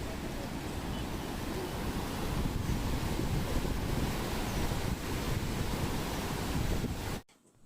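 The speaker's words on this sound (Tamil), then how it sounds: "எவ்வளோ ஸ்பீடாக தண்ணி திறந்து விட்டுருக்காங்க பாருங்கள்." Water rushing through the open gates of the Kallanai dam, heard from the bridge above as a loud, continuous broadband roar with wind buffeting the microphone, cutting off abruptly at the end.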